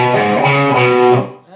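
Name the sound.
electric guitar playing a lead rhythm lick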